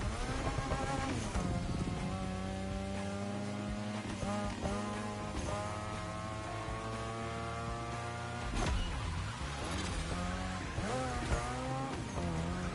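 Engine note rising and falling through shifts in The Crew Motorfest racing game, with tires squealing as the car slides through drifts, loud and continuous with no talking.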